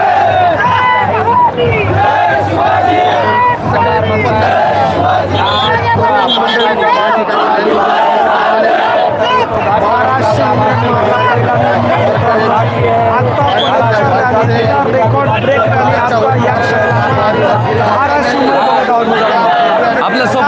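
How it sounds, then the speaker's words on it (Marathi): A huge crowd at a peace rally in Dharashiv fills the air with constant loud chatter and babble, steady throughout, with a low hum running under the voices. "प्रचंड गर्दी"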